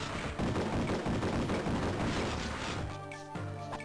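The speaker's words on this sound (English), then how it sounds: "Priest bot has machine guns, by the way." Dense, continuous rapid machine gun fire from a priest bot in the Samurai Jack video game, loud and sustained, thinning out near the end with a few tonal game effects.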